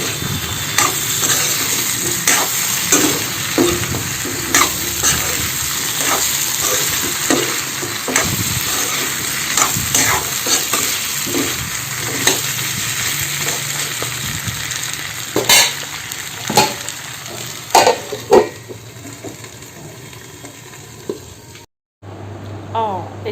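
Pumpkin pieces go into a pot of frying pigeon meat and potatoes, with a loud continuous sizzle and repeated stirring scrapes and knocks against the pot, close up, ending in a brief silence.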